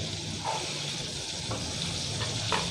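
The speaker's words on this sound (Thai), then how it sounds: "ทอดด้วยไฟกลางๆนะครับ" Steady, soft sizzling and crackling of chicken breast frying in hot oil over medium heat, with a few faint clinks, continuous throughout and fairly quiet.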